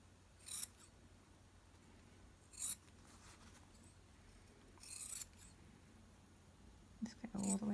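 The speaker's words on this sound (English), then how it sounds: "Now you're going to need to trim your corners." Scissors trim the corners of block-printed paper gift tags, a few short, crisp snips spaced apart at close range over a quiet background, with soft whispering heard.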